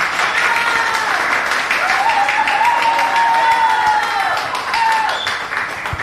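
Sustained audience applause for the second contestant at a singing contest, a thick, loud wash of clapping with a faint tonal whistle or shout rising briefly above it midway.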